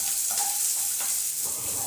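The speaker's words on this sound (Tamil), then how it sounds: "அதையும் சேர்த்து நல்லா வதக்கிக்கிட்டேன்." Shallots, garlic and green chillies sizzle steadily in a pan, a dense bright frying hiss with faint scraping from stirring, close up and without talk.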